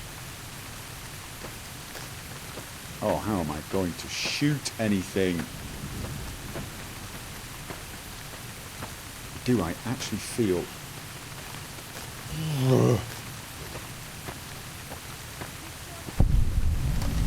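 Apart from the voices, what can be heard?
rain in a video game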